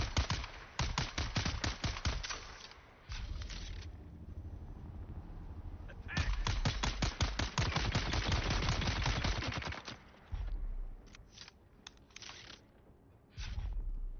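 Big guns fire in Dune Awakening: dense bursts of rapid gunfire in long volleys with short pauses between, loud and close, with faint voices at times.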